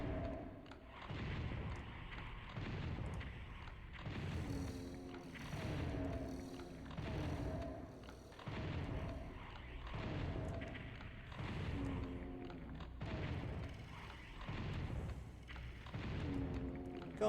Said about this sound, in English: I'm going to switch back to the shotgun now